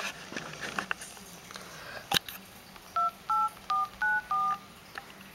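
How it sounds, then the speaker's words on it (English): Touch-tone dialing on a T-Mobile G1 phone running an HTC Hero ROM: five short, clear keypad beeps in steady succession, following a quiet stretch with a few faint handling clicks. "So once you dial a number,"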